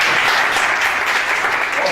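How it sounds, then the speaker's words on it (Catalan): An audience bursts into loud, dense applause at a live event in Catalonia, a steady crackle of many hands clapping at once with no break. "Vinga, va, un fort aplaudiment."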